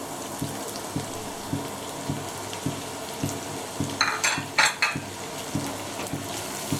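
Carrots fry in hot ghee for fried rice, with a continuous sizzle, soft regular low thumps, and a short cluster of metallic utensil clinks against the pan partway through, close and without talking.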